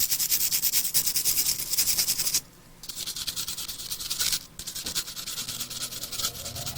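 Steady rubbing and scraping of a 1/64 scale NASCAR model car being cleaned down in a custom workshop, close and continuous with two brief pauses, no talking.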